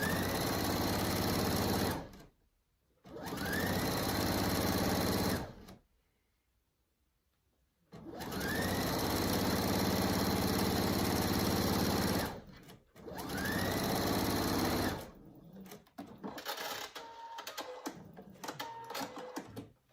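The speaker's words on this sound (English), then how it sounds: "Okay, so now I'm just going to continue that until I have them all sewn together." Sewing machine stitching men's ties together, loud sustained whirring runs of several seconds each separated by pauses, with a lighter rattling run of stitches at the end.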